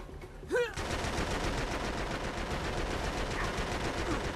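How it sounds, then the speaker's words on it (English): Rapid enemy automatic gunfire in the Uncharted 3 video game, a dense continuous rattle of shots filling the whole stretch after a brief swooping sound at the start, steady and loud with no talk. "How the hell are you shooting me right from there?"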